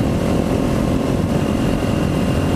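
A Kawasaki Ninja 400 motorcycle fitted with a new aftermarket exhaust drones steadily and loudly at close range, a constant engine roar with no talking.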